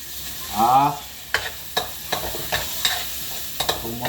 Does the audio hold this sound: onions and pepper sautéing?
yes